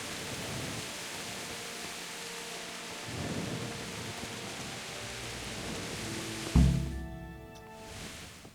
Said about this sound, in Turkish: Yağmur da dindi.